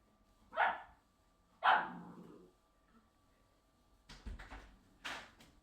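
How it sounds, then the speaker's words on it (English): A dog barks twice in clear, separate bursts about a second apart, followed by a few softer, rougher barks or scuffling noises, with no talking over them. "What are you barking at?"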